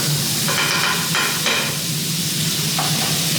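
Meat frying in butter in a pan, with a steady close sizzle and intermittent scraping as it is stirred around.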